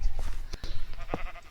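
A sheep in the video game Minecraft bleats in short bursts over busy game noise, fairly close and moderately loud.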